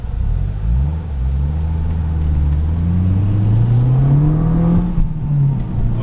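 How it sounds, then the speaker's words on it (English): A 2006 Mazda 6 with an aftermarket cold air intake accelerates hard, its engine note climbing steadily through the rev range, loud and close, then dropping briefly at a shift before pulling again. "Amazing acceleration."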